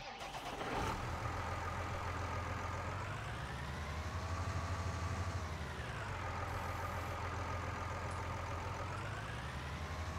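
A small tractor engine in Farming Simulator 19 hums steadily at close range, its pitch rising and falling smoothly as it revs up and eases off, a continuous loud drone with no talk.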